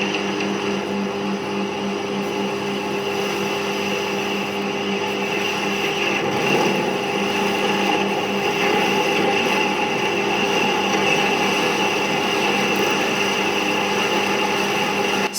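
Steady parting-off cut in stainless steel on a lathe, a continuous high metallic whine with strong tonal ringing and machine hum, holding at constant loudness throughout.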